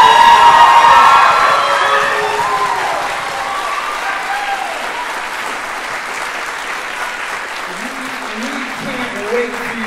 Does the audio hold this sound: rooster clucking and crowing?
no